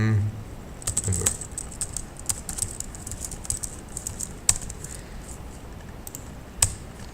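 Computer keyboard typing while coding a cross-platform app, bursts of sharp clicking keystrokes with pauses and a few louder isolated key taps, close up and with no speech.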